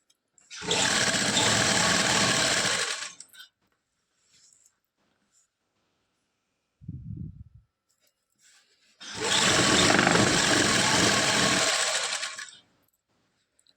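A sewing machine stitching a seam on a lined salwar, two sustained whirring runs of about two and three seconds separated by a short low mechanical burst and quiet pauses, close and clear.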